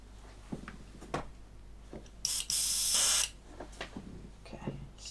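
Airbrush spraying Mr. Paint straight from the jar onto tissue while working on an Airfix 1/48 Westland Sea King model kit: a loud steady hiss lasting about a second, preceded by a brief burst and surrounded by quiet handling clicks.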